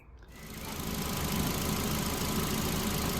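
A Ford Fiesta Zetec engine, freshly serviced with a new timing belt, catches and settles into a steady idle, a loud even rumble heard up close with no talking.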